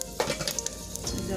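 Half a spoonful of panch phoron spices crackles and sizzles as it hits hot oil in a pan, with sharp pops and light stirring scrapes, close and without speech.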